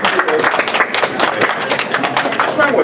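An audience at a Hiroshima and Nagasaki remembrance day gathering gives a short burst of dense, close clapping, with murmured voices mixed into the applause.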